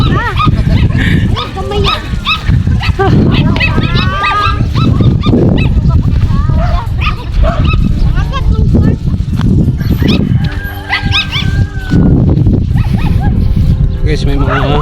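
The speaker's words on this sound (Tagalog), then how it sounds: "Daming aso guys." Loud, repeated dog barks overlap in a busy outdoor scene near Mount Canlaon volcano, mixed with other animal calls, including cattle, and people talking nearby.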